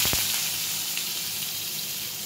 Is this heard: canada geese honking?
no